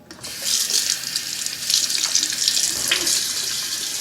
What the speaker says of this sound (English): You just want to go ahead and rinse it off at that point.